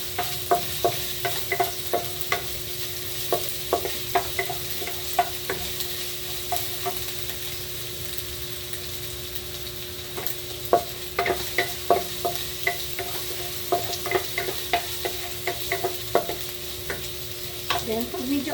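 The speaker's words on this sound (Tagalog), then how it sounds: "ginigisa ko muna yung luya sa bulit" Ginger sizzles in hot oil for a tinola-style chicken dish with lemongrass, a steady crackling hiss broken by regular sharp scrapes and taps of a spoon stirring in the pan, close and continuous.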